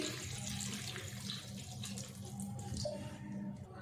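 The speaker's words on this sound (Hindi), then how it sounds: "फुल्कियों में हम पानी डालेंगे" Water pours steadily onto freshly fried gram-flour phulki fritters, a continuous splashing rush of liquid heard up close for a few seconds with no talking.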